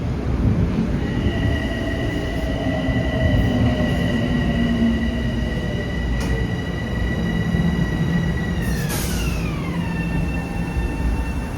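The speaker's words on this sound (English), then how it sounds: "This is the train to Hudson." A Metro-North Hudson Line train passes Yonkers station, its loud rumble steady throughout, with sustained metallic wheel tones that slide downward in pitch as it goes by.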